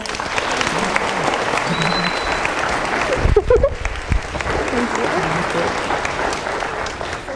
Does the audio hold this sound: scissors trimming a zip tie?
no